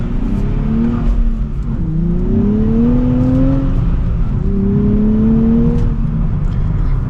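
A 2024 Nissan Z Performance revs and pulls away, the pitch climbing through several gear changes, loud and close.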